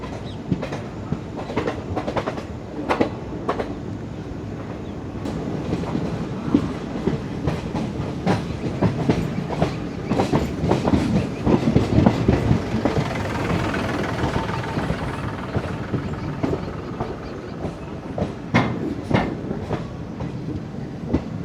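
The diesel-hauled 12467 Leelan Express rumbles along with rhythmic clickety-clack of wheels over rail joints, heard from inside, steady and fairly loud, gradually easing as it pulls into Merta Road Bypass station.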